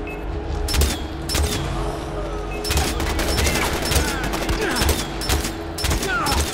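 Rapid, repeated gunfire from the Far Cry 4 video game rattles continuously in loud bursts, with sharp cracks layered over a steady low rumble of game ambience.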